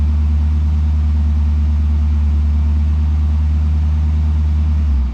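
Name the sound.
flooded ZL1 car engine idling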